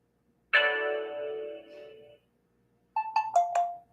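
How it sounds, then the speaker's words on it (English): An electronic notification chime rings out during a live online reading, a long sustained bell-like tone that fades, then a quick run of four rising ding notes after a pause, clear and close. "The sound is on. The notification sound."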